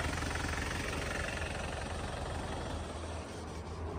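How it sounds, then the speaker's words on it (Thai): A 2004 Isuzu D-Max 2.5-litre diesel idling, recorded close as a steady rough rumble with a faint clatter that stays constant and unchanging throughout. "โอเคนะครับเสียงเครื่องนะครับ"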